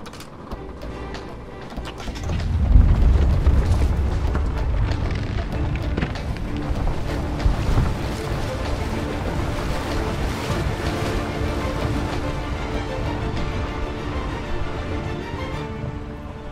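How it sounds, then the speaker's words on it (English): Engines of an icebreaker ship start up. A deep, heavy rumble swells after about two seconds and then drones on steadily for the rest of the stretch, mixed with a windy, watery wash and no speech. "Start the engines."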